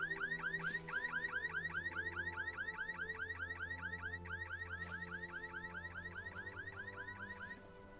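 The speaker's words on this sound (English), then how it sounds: "hope this car doesn't have an alarm. And of course it does." A car alarm wails in the zombie survival game HumanitZ, a rapid repeating electronic whoop cycling steadily at moderate level with a couple of brief bursts of noise, then cutting off near the end.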